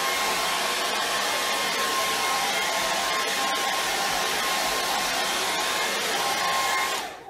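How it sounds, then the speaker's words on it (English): Close by, a hair dryer drying quick-dry varnish on an acrylic painting runs continuously with an even whirring hum, cutting out just before the end. "Quick dry varnish, and it's a hair dryer."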